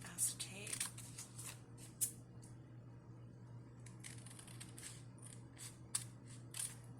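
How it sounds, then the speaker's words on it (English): Scissors make scattered crisp snips and rustles, trimming excess acetate sheet for a frame shaker craft, quiet and close over a low steady hum. "So I'm just going to trim off the excess acetate."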